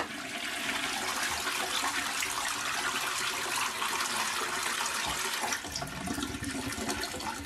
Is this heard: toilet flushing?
yes